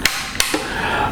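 The hammer of a Springfield Trapdoor rifle is drawn back, giving two sharp close metallic clicks about a third of a second apart, followed by a softer click and a lingering hiss of room noise.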